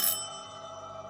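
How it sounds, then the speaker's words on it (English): A house bell is struck once with a bright, clear ring whose metallic tone hangs and slowly fades for about a second, alone with no voices. "And every bell in the house began to ring."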